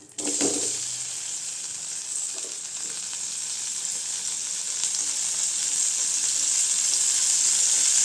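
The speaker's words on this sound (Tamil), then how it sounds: "தக்காளி நல்லா வதங்கட்டுங்க" Tomatoes sautéing in oil in a pan for pirandai (adamant creeper) chutney give a steady, loud frying sizzle that opens with a brief clatter and builds slightly over about eight seconds, with no talking.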